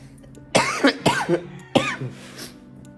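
Three harsh, close coughs in quick succession, loud and dry, with brief quiet gaps between them and no talking.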